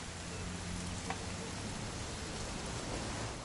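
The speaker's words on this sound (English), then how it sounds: "It's gonna rain the whole weekend, isn't it?" Steady rain falls outdoors as a soft, even hiss, faint and continuous with no voices.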